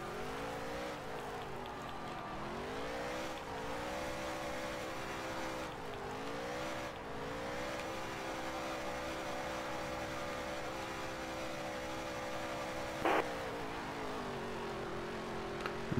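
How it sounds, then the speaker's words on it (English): A stock car in the NASCAR Heat 3 racing game does a burnout, its engine revving loudly and steadily with rising and falling pitch throughout and a brief squeal near the end. No voices. "do a little burnout to celebrate here"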